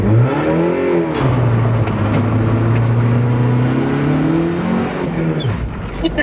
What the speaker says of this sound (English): Let it out slow and then just floored it